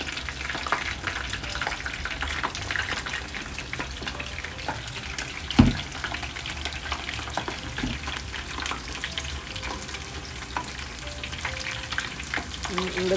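Mushrooms fry in hot oil in a pan, a steady crackling sizzle throughout with occasional sharper pops and a brief clatter midway, no voices.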